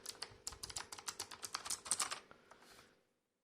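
Rapid keystrokes on a Razer Huntsman Elite keyboard with matte black finish, a steady run of crisp clicks close up that slows and stops after about three seconds, with no talking.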